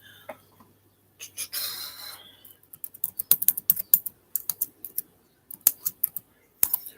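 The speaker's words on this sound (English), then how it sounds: "Let me get that typed in here and then move this thing." Typing on a computer keyboard: close, crisp keystrokes in irregular bursts and short runs, with brief pauses between them and no talking.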